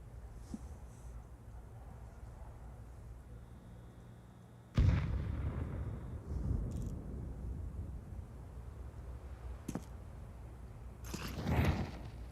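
Desert Eagle and Five-Seven pistols fire in a Counter-Strike esports match. The shots are sparse, sharp cracks with scattered impacts, fairly quiet against background game ambience.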